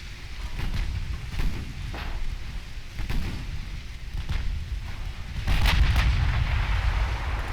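Naval gunfire and shell hits on warships in Ultimate Admiral Dreadnoughts: a run of booming thuds and rumbling impacts, several sharp bursts amid continuous low roar, with a louder heavy hit near the end.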